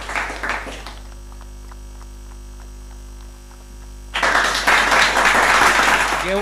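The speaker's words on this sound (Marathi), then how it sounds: "तुम्ही प्लीज टाळ्या तर वाजवा." Applause at a sports prize distribution ceremony, a short clatter of clapping at the start and a louder, dense burst in the final seconds over a constant electrical hum from the PA system.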